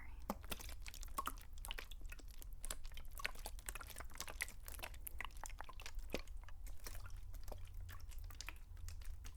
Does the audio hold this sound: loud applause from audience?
no